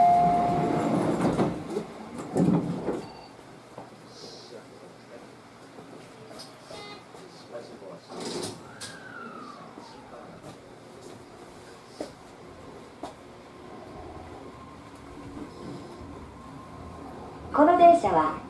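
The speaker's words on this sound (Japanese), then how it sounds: "急行船橋行きです。まもなく発車をいたします。" A Tobu Noda Line express train to Funabashi rumbles at a platform with a brief tone sweep and scattered clicks, loud bursts of noise at the start and end over a steady low hum.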